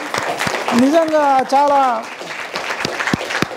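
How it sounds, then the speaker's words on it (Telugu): Audience applause rings out at an ABV Foundation skills-training gathering, a continuous crowd of clapping with sharp individual claps, while someone speaks over it and a voice calls out briefly. "మీకు మీరే చప్పట్లు కొట్టుకోవాలమ్మా"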